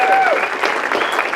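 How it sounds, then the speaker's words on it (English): Applause for the volunteer security team at a Cowtown Showdown town hall event, a steady crowd clapping that holds strong throughout, with a brief whistle-like tone near the start. "Big round of applause for everyone from the Black Hats."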